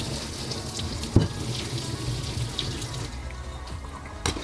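Rinse water pours out of a Cafe Du Chateau French press coffee maker into a sink, a quiet, steady splashing trickle with a couple of brief clinks, nothing else over it.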